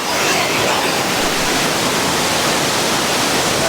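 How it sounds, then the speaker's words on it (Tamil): A powerful waterfall roars continuously at close range, a dense, loud, unbroken rush of falling water with no voices. "சான்ஸே இல்லைங்க, செம்மையான ஃபால்ஸ்."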